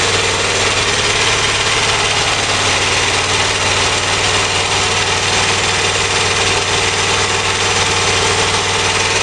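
A small engine with its fuel mixture deliberately leaned out by hand, fitted with an automatic mixture controller, runs at a steady, loud, close drone with no break and no talk.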